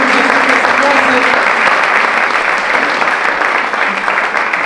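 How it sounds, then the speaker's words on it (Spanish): A crowd at a political discussion event in Santa Fe province claps for the comrades present: steady, loud, dense applause that carries evenly through the whole stretch without easing off. "yo doy un gran aplauso para todos los compañeros y compañeras que están hoy acá"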